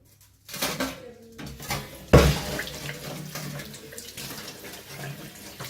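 A brass pooja vessel is washed under a running tap. Water splashes steadily and loudly into the sink, with a sharp clank of metal near the start.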